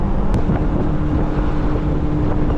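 A Hellcat-powered Dodge Magnum accelerates hard with its wheels spinning: a loud, steady low engine roar mixed with heavy wind buffeting on the microphone.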